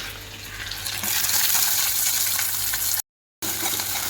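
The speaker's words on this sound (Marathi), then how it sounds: "कांदा छान लालसर परतवू द्यायचा." Chopped onion with curry leaves, ginger-garlic paste and dried red chilies fries in a pan with a continuous close hiss, briefly cut by a moment of silence near the end.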